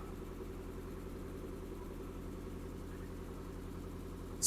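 A car that had been standing unused for a few months idles at about 1,000 rpm, a steady low rumble holding evenly throughout, with a brief sharper noise right at the end.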